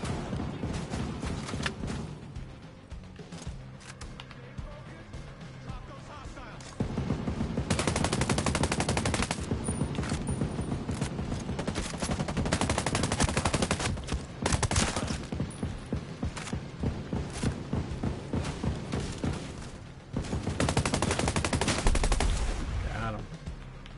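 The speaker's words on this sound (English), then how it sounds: "guy's shooting at me" Enemy gunfire in the video game Ghost Recon Breakpoint, sustained automatic bursts and rapid shots rattling almost without pause, loud and dense, with a player talking now and then.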